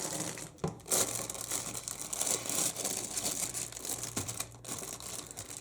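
A plastic bag crinkles and rustles close up as grey plastic model kit sprues are pulled out, giving steady crackling handling noise with brief sharper crunches, quiet and without talk.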